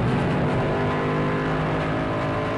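Engine of a GT3 race car at the 2011 FIA GT3 qualifying at Algarve, droning loudly and steadily as it pulls back on power, a close, continuous roar with no talk.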